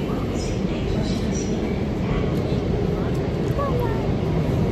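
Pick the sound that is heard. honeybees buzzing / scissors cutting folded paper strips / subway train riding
subway train riding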